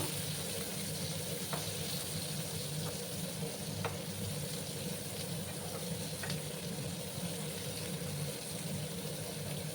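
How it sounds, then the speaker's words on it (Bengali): Chopped onions frying in a pan over a raised gas flame, a soft continuous sizzle with a few faint clicks of stirring, steady and fairly quiet throughout. "ভালো করে আমি এই পেঁয়াজগুলোকে ভাজবো বন্ধুরা"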